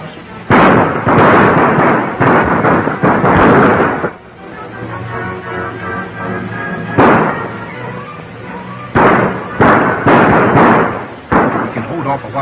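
Gunfire in an old desert shootout film: loud, sharp shots ring out in tight clusters, with a quieter stretch between the volleys.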